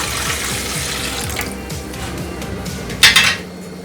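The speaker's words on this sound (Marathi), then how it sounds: "1 तांब्या पाणी टाकू याच्यात." Water from a small metal pot poured into an idli cooker, a close steady gush mixed with clanks and clinks of metal cookware, ending in a sharper clatter.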